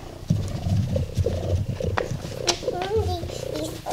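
A content cat purrs in a low, rumbling, pulsing drone close by, broken by a few sharper sounds and brief noises from people nearby.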